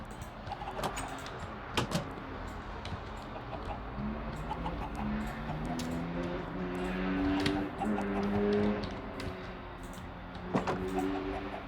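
Chickens cluck in a Minecraft farm pen, with several short clucks and squawks overlapping at a moderate level over steady game ambience, and no one talking.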